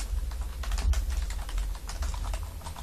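Steady rapid key presses on a computer keyboard during SAP order entry, close and continuous over a low background hum, with no voices.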